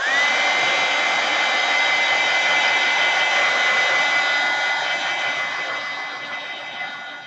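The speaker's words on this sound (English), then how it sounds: "of course I'm going to blow dry to make it go faster" A hair dryer blows close and loud on wet paint on a DIY wordsearch coaster, a steady unbroken whooshing roar that eases slightly toward the end.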